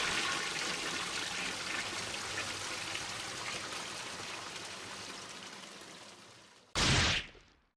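A toilet-flush ringtone plays in a Kowloon video game: a long, steady rush of gurgling water that slowly fades, then ends in a brief, louder splashing burst. No one speaks.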